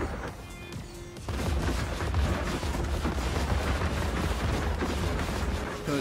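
Rocket cannons firing in a Dreams video game: a brief quieter moment, then a loud, dense barrage of rapid blasts that continues to the end.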